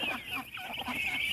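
Muscovy ducks and other fowl cluck and murmur nearby in a steady, busy chorus, with soft repeated calls layered over low background noise.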